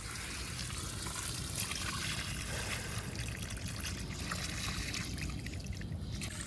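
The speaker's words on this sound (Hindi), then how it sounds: "पानी एकदम स्पीड के साथ जा रहा है" Water rushes fast from a garden hose pipe in a village yard, a steady, dense hiss and splash that carries on unbroken throughout at moderate loudness.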